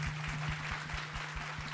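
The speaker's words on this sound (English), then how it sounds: "Round of applause for Diva." Audience applause at a Black birth maternal and infant health symposium luncheon, a faint, steady patter of many hands clapping in a room, with a low electrical hum running underneath.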